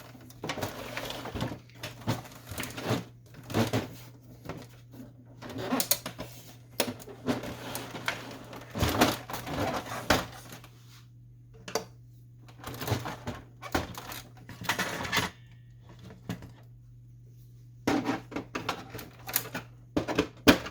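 Canon Pixma MX922 printer carriage shuttling and clicking during disassembly, a series of sharp mechanical clatters and bursts separated by short pauses over a low steady hum.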